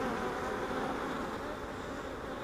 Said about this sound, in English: Hopefully there's enough bees in here